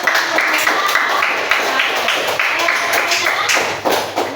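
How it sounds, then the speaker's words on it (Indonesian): A classroom group claps together after student presentations, a quick rhythmic run of fairly close hand claps with some thumps and desk taps, the clapping rising and falling in uneven bursts. "Mari kita tepuk tangan."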